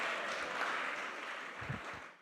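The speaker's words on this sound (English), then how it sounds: "Give her a huge round of applause" Applause from a conference audience greeting a lightning-talk speaker at a hackathon organizers' event, a steady moderate wash of clapping that fades toward the end.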